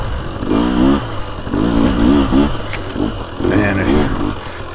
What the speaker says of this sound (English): these engines, these 300s run so good down low